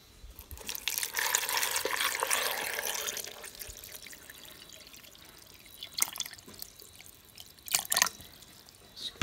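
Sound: water being added to chopped beetroot

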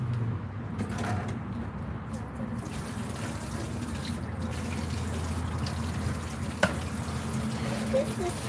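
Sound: water rinsing a big catfish

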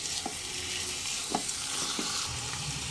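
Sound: chicken pieces sautéing in a pan for haleem

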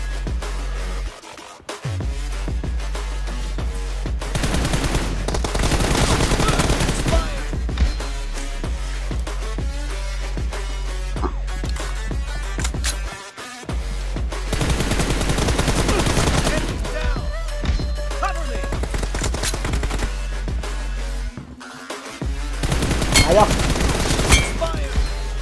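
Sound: gunfire from a video game

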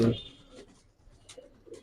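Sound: silver beji pigeons cooing

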